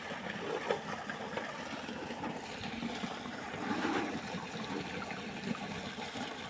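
Irrigation water flows through a channel in a farm field, a faint, continuous trickling rush with gentle swells and some light wind, heard alone without talk.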